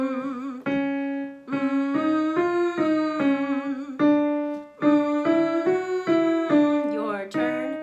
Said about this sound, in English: This one we are just starting on a hum